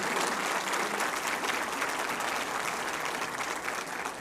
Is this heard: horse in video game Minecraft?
no